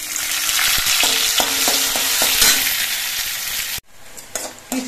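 Raisins crackle and sizzle in hot ghee, loud and close, with a run of metallic stirring taps against the pan. The frying noise cuts off abruptly, leaving a few isolated clinks.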